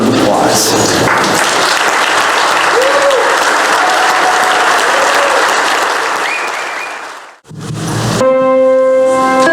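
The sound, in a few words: applause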